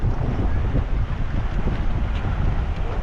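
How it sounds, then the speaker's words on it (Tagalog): Steady sea wind roars and buffets the microphone outdoors on a beach in Cairns, Australia, a constant rushing noise with no one speaking. "Wow, sarap ng hangin."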